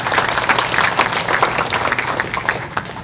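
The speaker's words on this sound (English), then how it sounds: "Let's give all of our staff and those that coordinated a round of applause." Conference audience applauding staff and coordinators at an Ontario education gathering, a lively crowd of hands clapping close and steadily, with individual claps standing out in a dense, even roll.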